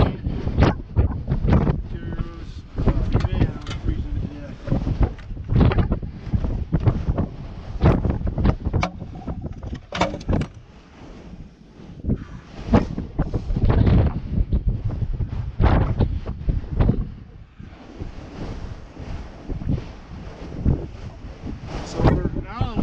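Strong wind buffets the microphone on a climb up Mt. McLoughlin, a constant rumbling roar with gusty surges that barely lets up over the whole stretch.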